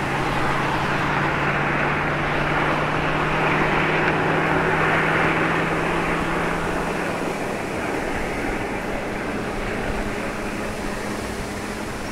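Steady highway traffic roar layered as a sound effect under aerial drone footage, a continuous dense whoosh of passing vehicles with a low engine hum that fades partway through, loud and unbroken throughout.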